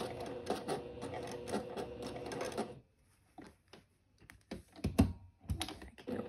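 Domestic sewing machine stitching a floral sundress, a loud rapid mechanical whir for a few seconds that stops, followed by quieter clicks and handling taps.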